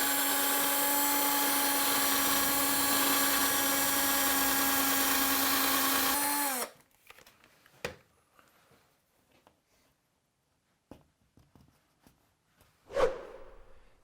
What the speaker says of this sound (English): So now I'm going to drill, using a masonry drill bit, drill through the plasterboard and into the wall behind.